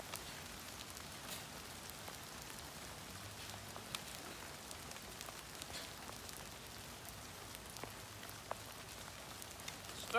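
Steady rain falls outdoors at a campfire site, a soft even hiss of countless drops with occasional sharper pattering taps, continuous and fairly faint throughout.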